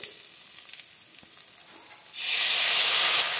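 Sliced drumstick vegetable dropped into hot oil with green chilies and five-spice in a pan, a sudden loud, steady sizzle that bursts in after a quieter stretch of faint kitchen hiss and continues unbroken to the end.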